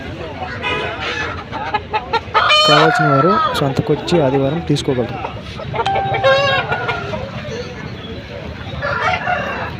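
Roosters crowing and hens clucking at a crowded weekly livestock market in Rayachoti, Kadapa district, with loud repeated crows rising over a busy background and someone speaking nearby.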